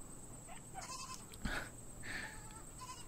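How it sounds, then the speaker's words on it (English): Goats on a farm, a nanny goat and her young kid, bleating in short calls at moderate distance, a few separate cries over steady outdoor background noise with no talking. "These are some of the goats they let me have."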